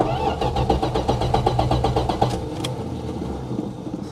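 An old car with about 166,000 miles is cranked over, a steady rhythmic churning of the starter for about two seconds before the engine rumbles into a rough, low running sound.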